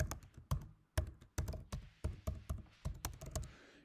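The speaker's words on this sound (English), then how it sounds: "You see I'm typing a lot of characters here, obviously." Keys clack steadily on a computer keyboard as a long password is entered, a close series of sharp individual keystrokes in an uneven rhythm with no talking.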